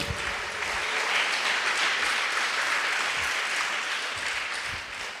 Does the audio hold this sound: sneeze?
no